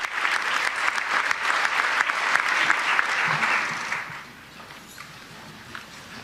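Audience at the United Nations stands and applauds as a young speaker takes the podium, a dense, steady ovation that fills the hall for about four seconds, then fades to a quieter room murmur.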